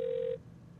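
A room telephone in a karaoke booth sounds a single steady electronic tone for about a third of a second, loud and alone, then cuts to quiet room hum.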